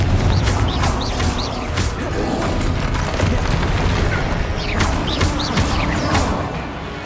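Spell blasts from a Hogwarts Legacy duel, including the Confringo blasting spell, land as repeated booming explosions and crashes in a dense, loud battle mix, with whooshing spell effects cutting through.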